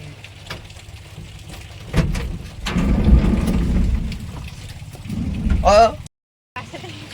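Heavy rain pours steadily in a dense, continuous hiss, swelling louder midway, with a low rumble beneath and a brief sharp creak near the end.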